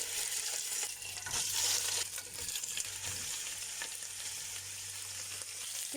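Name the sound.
oxtail pieces frying in butter and corn oil with cardamom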